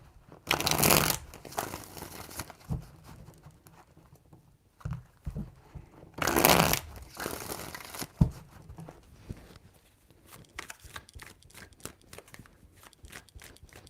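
Tarot cards being shuffled by hand, coming as two loud riffling bursts a few seconds apart, then a run of quick, light flicks and taps toward the end, close and quiet in between.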